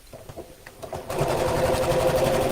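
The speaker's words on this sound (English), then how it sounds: "I'm going to top stitch around the curves because I think it looks nice" A sewing machine starts up after a few tentative taps and then runs steadily, top stitching around curves with a rapid, even, close-up mechanical chatter.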